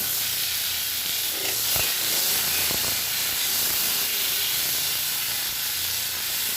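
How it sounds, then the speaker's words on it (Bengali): Shrimp frying in a pan make a continuous, even hissing sizzle that holds steady at moderate loudness, with no voices and a couple of faint clicks. "চিংড়ি মাছটা হালকা ফ্রাই হয়ে গেছে"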